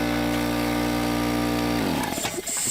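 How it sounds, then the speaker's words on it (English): A long-owned air compressor runs with a steady, loud motor drone, then breaks into a rough, hissing rush of air while drying off an expensive bicycle after washing. "just buy an air compressor"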